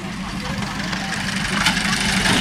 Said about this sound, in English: Looks like the first tractor's on his going off his go.